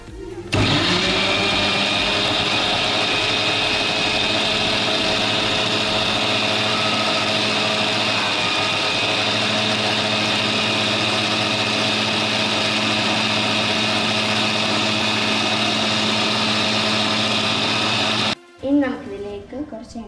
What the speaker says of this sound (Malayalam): ഇനി നമുക്കിത് മിക്സിയിലിട്ട് അരച്ചെടുക്കാം.